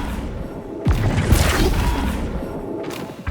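A Flipendo spell strikes in the video game Hogwarts Legacy, landing as a loud boom with a whooshing crash that swells into a sustained rumbling burst over a noisy game backdrop.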